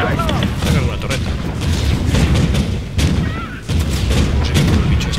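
Turret fire in the game Spore, industrial phase: loud, continuous booming and gunfire-like bursts with several sharp hits, dense and steady throughout, some game tones mixed in.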